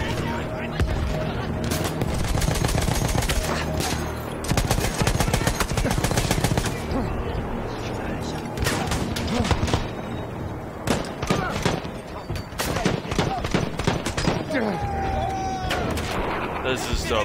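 Battlefield 1 combat rages with dense, loud gunfire, rapid automatic bursts and heavy booms from explosions and grenades, continuous for the whole stretch with someone talking over it in places.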